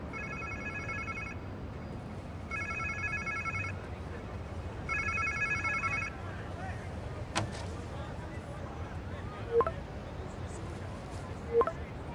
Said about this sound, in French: On dirait un téléphone.